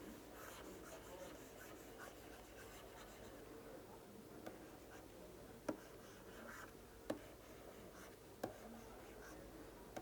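A pen writing by hand while a circuit diagram is drawn, a steady soft scratching and rubbing with a few sharp taps as the pen strikes the surface. It is close and continuous, with no talk.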